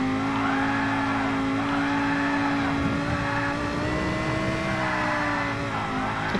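A GT Sport race car holds a steady high engine drone while drifting, its pitch wavering and sliding as it slides through corners, loud and close throughout with no one talking.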